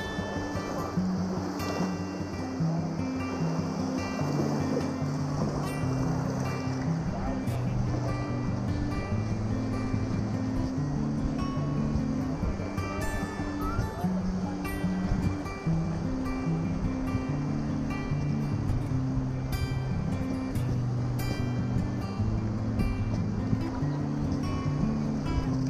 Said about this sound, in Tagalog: Sobrang alon guys.